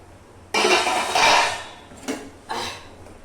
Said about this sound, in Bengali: চলো দেখি সেদ্ধ হয়েছে কিনা। ঢাকাটা সরাই।